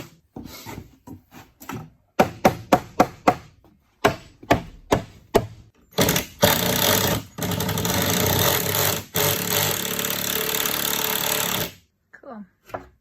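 Wall studs are cut out for an exterior door opening: a run of sharp, close knocks and bangs, then a loud, sustained burst of power-tool cutting that stops and starts briefly before ending.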